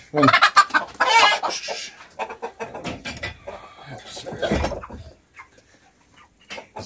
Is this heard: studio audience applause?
no